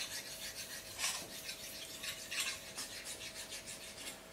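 Soft, steady rasping strokes of a steak knife's cutting edge being polished with light pressure, a continuous close scraping with a few slightly louder passes, no voices.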